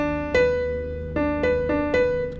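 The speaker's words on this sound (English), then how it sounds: "That's what a major sixth sounds like." A major sixth interval sounds as sustained tonal notes, with four struck attacks ringing and decaying over a few seconds, clear and close with no voices.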